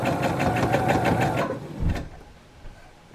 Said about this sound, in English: I'm going to sew 1/4 inch from the side.